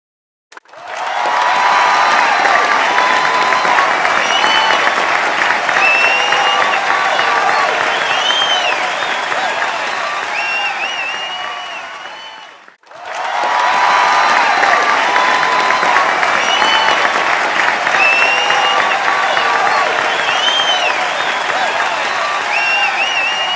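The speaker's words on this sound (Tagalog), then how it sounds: "mas maugong na palakpak, igawad sa magkakampyon." A large crowd at a debate competition bursts into loud, sustained applause and cheering for the champions, a dense roar of clapping that fills two long waves with a brief dip between them.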